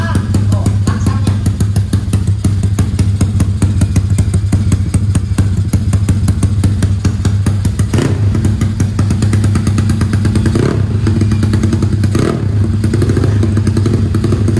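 A Yamaha Mio 400cc drag motorcycle engine blares loud and close, holding a steady throbbing rev with harsh clattering mechanical noise and a few sharp thuds, running continuously throughout with no talking.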